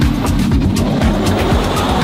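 An electric-quiet supercar accelerates hard, a loud steady rush of road and wind noise with rising whine sweeps, sustained throughout.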